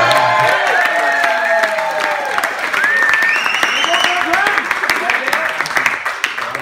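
Applause during a best man's wedding speech: a crowd claps loudly with scattered cheers and whoops, lively and dense, tapering slightly toward the end.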